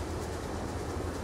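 In the Transport Fever 2 video game, a train runs along its track near a station. It gives a steady, moderately quiet rumble and rolling hum with no distinct clacks, and there is no talk.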